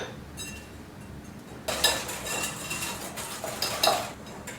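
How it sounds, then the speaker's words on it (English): Eggs and sugar whisked by hand in a large bowl for sweet buttermilk cornbread, a quiet start giving way to steady scraping and clinking of the whisk against the bowl, with louder strokes near the end and no talking. "In a bigger bowl, start by whisking your eggs."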